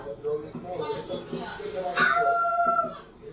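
A woman on a New York City subway imitating a dog, her voice rising into barking, yipping and howl-like sounds amid other people's voices, close and fairly loud.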